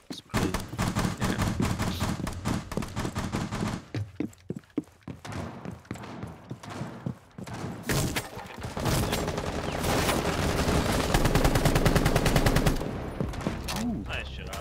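Rapid bursts of video game shooter gunfire on the Coastline map fill most of the stretch, loud and close, with a brief lull in the middle before the firing returns dense and sustained.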